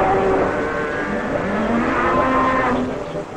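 Cattle on a 1950s Sardinian farm low in long, drawn-out moos, loud and continuous over a dense, hissy old-film soundtrack.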